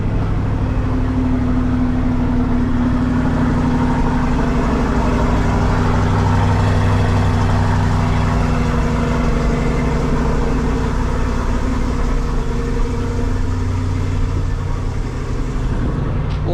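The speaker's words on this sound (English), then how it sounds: "At the hotel, I was able to get the underground parking. So you know what that means? Cold start." A C8 Corvette engine idles steadily after a cold start in an underground car park, a deep, throaty low rumble, close and continuous, with slight fluctuations in pitch throughout.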